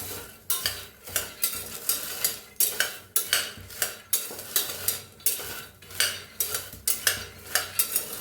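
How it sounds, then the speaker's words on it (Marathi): Black horse gram dry-roasting in a steel pot is stirred in steady, repeated strokes, each one a close gritty scrape and rattle of seeds against metal, with a regular rhythm about twice a second and no talking. "असं हलवतच भाजा नाहीतर"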